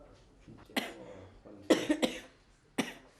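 A man with a persistent cough, a father living in a shack in Laos, coughs several times: single harsh coughs and then a quick cluster of three, close and clear against a quiet background.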